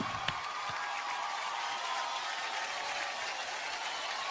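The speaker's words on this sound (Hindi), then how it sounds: "इस टीम के लिए जोरदार तालियां होनी चाहिए।" Sustained audience applause fills a large award-show hall at the Filmfare awards, a steady dense clapping from a big crowd with one sharper clap standing out near the start.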